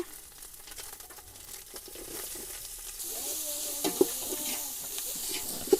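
Crushed ginger, garlic, green chilli and onion fry in a pan with a soft crackling sizzle that grows louder partway through, broken by scraping stirs and a couple of sharp clicks.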